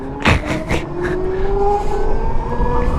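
Electric whine of a 2018 Zero SR electric motorcycle being ridden, a rising motor tone climbing steadily over road and wind noise, with a few sharp bursts near the start; no talking.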